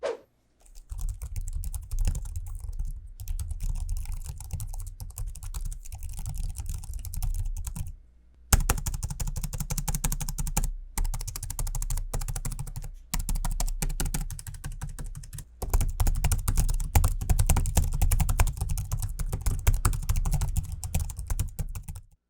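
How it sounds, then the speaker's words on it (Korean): Laptop keyboard typing up close: a dense, continuous patter of key taps in bursts, broken by a few short pauses, with no voices. "마지막으로 키패드와 스피커의 소리를 들어볼게요."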